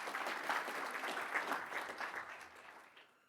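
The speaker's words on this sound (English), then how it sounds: "We give them a round of applause" Applause at a school board meeting honoring schools, a steady patter of clapping from a modest room audience that fades out toward the end.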